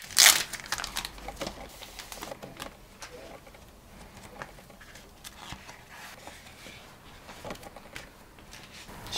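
Plastic packaging of a tablet screen protector is opened with a loud crinkle at the start, followed by lighter scattered crackles and rustles of the plastic film nearby.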